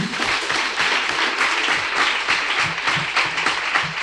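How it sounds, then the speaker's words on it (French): Crowd applause at a youth development event in the commune of Pobè, thick continuous clapping from many people, loud and steady throughout with no talking. "Ça s'applaudit."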